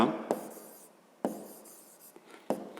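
A pen or pencil scratches out a math expression by hand. Three firm strokes stand out, with softer scraping and a light tap between them, close and quiet with no talking.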